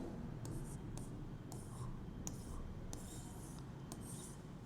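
Marker or chalk strokes on a classroom board scratch in short bursts of separate lines, faint and close, with no speech over them.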